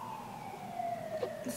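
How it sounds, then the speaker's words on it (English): Emergency vehicle siren wailing through a city street, a steady rising and falling tone heard at moderate distance over faint traffic, with no talking. "sorry for the sirens guys,"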